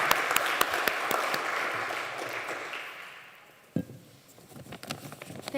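An auditorium audience at an internet governance conference applauds its speakers with dense steady clapping that fades out, followed by a sharp knock and quieter room noise with scattered sounds.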